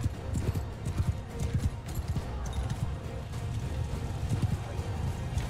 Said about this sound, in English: I thought that was a troop, but no, it's just a horse.